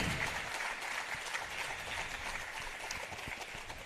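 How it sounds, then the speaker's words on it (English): An audience at a pyramid music meditation festival claps in a continuous round, a steady, fairly distant patter of many hands with no voices over it, fading slightly toward the end. "Then a huge round of applause for Dr."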